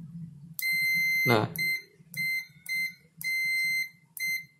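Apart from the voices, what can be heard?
multimeter continuity test beeping on blender controller button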